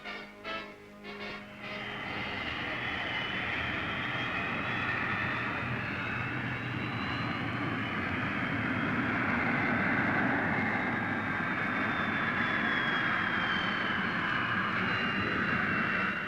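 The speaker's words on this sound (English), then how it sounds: "watch a test flight of the Australian-designed Jindavic" A Jindivik remote-controlled pilotless jet aircraft on a test flight roars steadily overhead, its engine whine rising and sustaining at a distance with no voices.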